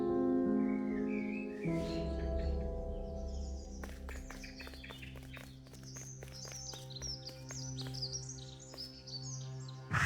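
A bird guard in The Last Campfire video game gives a sharp chirping squawk, followed by rhythmic footstep taps and a string of high twittering calls over a sustained musical drone.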